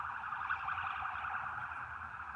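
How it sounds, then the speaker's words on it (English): A steady siren wail holds constant throughout, moderately loud and continuous with no voices over it. "We have a siren."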